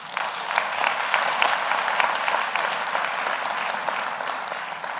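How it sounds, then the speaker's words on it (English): Sustained applause fills a university graduation ceremony, a dense steady clatter of many hands clapping from a large seated crowd, even and unbroken throughout without any speech over it. "Can we have another round of applause for Alvin?"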